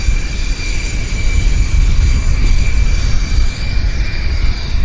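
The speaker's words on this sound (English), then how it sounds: "An Airbus 220 here in Vancouver of JetBlue." A JetBlue Airbus A220 at Vancouver airport gives a loud, steady jet roar with a thin high whine, continuous and fairly close, no voices.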